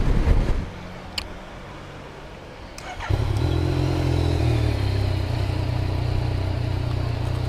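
A motorcycle on a long road trip through wet weather, a quiet lull before the engine rises into a steady, close, rumbling drone that holds through the rest.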